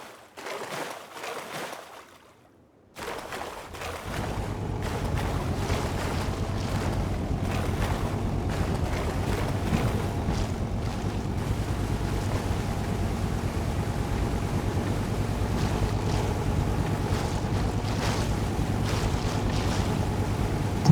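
Boat engine droning steadily under wind noise in the video game Rust, after a brief gust at the start; a constant low hum continues loud and unbroken at sea.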